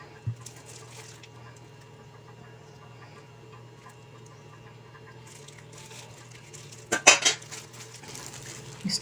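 Quiet stirring of chocolate sweet bread dough mixed with olive oil in a bowl, soft scraping and tapping of a utensil against the dish, with a brief cluster of louder clinks near the end.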